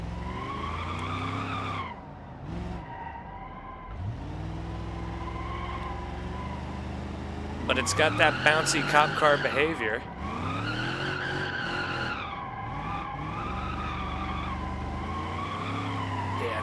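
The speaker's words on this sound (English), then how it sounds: "Yeah, tires squealing." Tyres of a bouncy police car squeal and skid in BeamNG.drive while the engine revs, with a sharp burst of screeching midway, heard under steady conversation between players.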